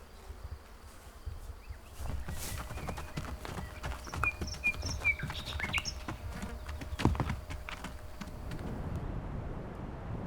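Pottoka horses on autumn grassland walk with soft, irregular hoof clops up close, accompanied by buzzing insects and flies and a few bird chirps in the background.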